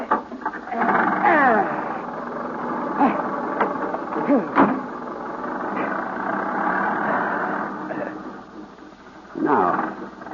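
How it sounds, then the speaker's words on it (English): An old motor car engine is cranked and set running as a radio drama sound effect: a mechanical chugging, rattling drone with several sharp bursts, heard under voices talking. "I'll crank the engine."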